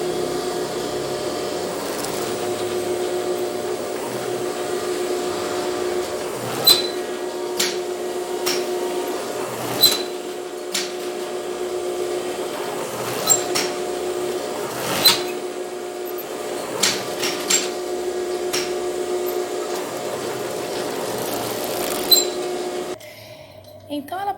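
A sewing machine running on a seam, probably an overlock-type machine sewing a chain stitch and double topstitch on a French or English seam. It gives a steady mechanical hum with sharp clicks and taps scattered through, and stops near the end.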